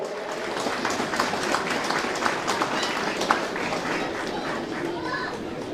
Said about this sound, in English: So big round of applause for all the Clare Camogie committee